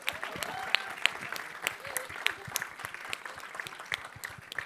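Audience applause at the Jersey of Dreams unveiling event, a patchy crowd of scattered, uneven claps with a few sharp near hand-claps standing out, mixed with faint voices and moderate room noise.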